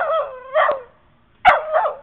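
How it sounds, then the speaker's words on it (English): Dog out in snow during a blizzard giving two pairs of sharp, close barks with a whining edge, separated by a short silence. "Don't bark."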